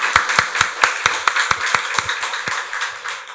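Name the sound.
church congregation applauding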